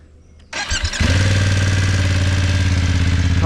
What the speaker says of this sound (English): Let's start it up. Come round and have a listen to the exhaust.